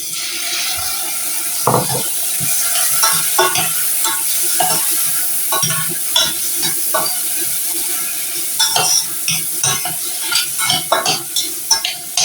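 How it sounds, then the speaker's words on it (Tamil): Tomatoes sautéing with fenugreek seeds for a Tamil curry, with a low sizzle under repeated close scraping and clinking of a spoon against the pan, growing busier toward the end. "தக்காளியும் கொஞ்சம் நல்லா வதங்கி விடும்"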